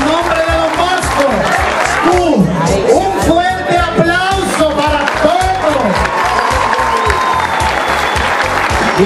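A gathered congregation applauds for don Marcos during Don Bosco's visit to Jarabacoa, with loud, sustained clapping and cheers mixed with chatter and voices over a rhythmic musical beat.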